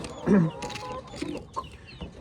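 Backyard chickens cluck a few times in short bursts, loudest near the start and then scattered and softer, amid a faintly noisy room.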